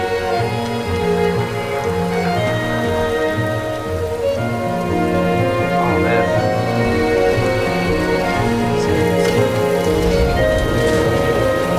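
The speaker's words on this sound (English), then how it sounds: "Those are called raindrops, Ben." Steady rain falls throughout a video game trailer, a continuous close hiss of drops on surfaces layered under a sustained musical score with repeating low notes.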